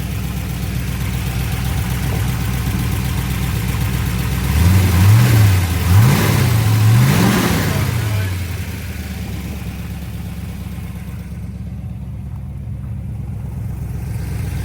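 Original 365 hp L76 V8 in a restored 1965 Corvette convertible idling steadily, then revving sharply three times in quick succession before settling back to a lumpy idle, close and loud.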